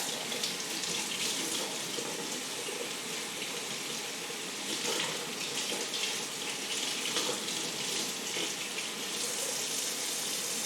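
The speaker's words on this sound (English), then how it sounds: "So I am going to give it a little rinse before we repot it. Not too hot of water" Water runs steadily from a tap over an orchid being rinsed before repotting, a continuous hiss and splash, with no talking, fairly close and even throughout.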